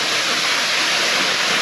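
A waterfall in Shivapuri Nagarjun National Park near Baghdwar roars as a loud, dense, unbroken rush of falling water, heard up close and alone.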